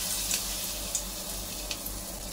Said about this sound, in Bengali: আমি ভেজে নেব